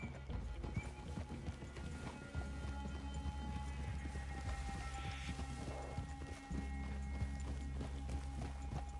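Horse hooves clip-clopping at a steady walking rhythm in Red Dead Redemption 2, with occasional snorts and a brief whinny, set against a quiet outdoor ambience in a forest clearing.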